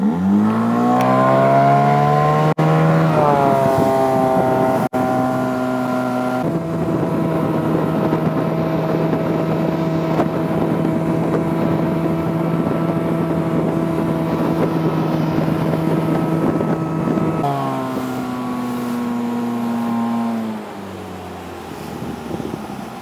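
A Yamarin 4500 Big Ride boat with an Evinrude E-tec 50 hp outboard accelerates, the engine's tone rising in pitch, then holding a steady loud drone before dropping back, with wind buffeting the microphone.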